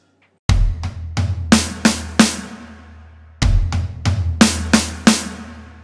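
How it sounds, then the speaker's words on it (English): A drum fill on floor tom and snare with kick, played as two repeated phrases of sharp, close hits, each opening with a deep tom and kick then climbing into loud snare strokes. "we're going to use the floor tom and the snare drum"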